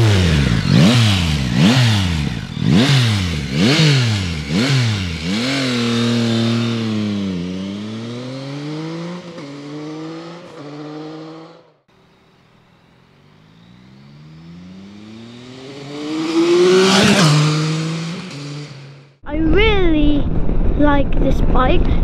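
A Yamaha Tracer 9 motorcycle accelerates hard through several quick gear changes, its engine note climbing and dropping repeatedly. It fades into wind, then roars past again close by before revving loudly once more.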